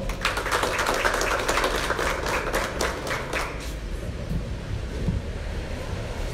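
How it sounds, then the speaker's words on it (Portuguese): A crowd applauds with dense, rapid clapping for a few seconds, then the clapping fades out into quiet room noise. "uma salva de palmas"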